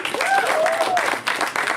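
A crowd keeps clapping for a poet at an open mic night, a brief, steady burst of applause with a few voices rising through it.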